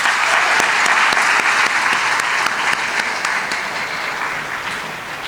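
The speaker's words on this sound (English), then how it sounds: "big round of applause." Audience applause at a community cultural club celebration honoring a judge and her parents, sustained clapping from a crowd that stays loud before slowly tapering off.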